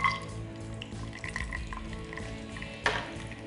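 Cashews frying in hot oil for a tempering for pongal, a soft continuous sizzle with light stirring and faint scrapes of a utensil against the pan, one brief sharper clink near the end.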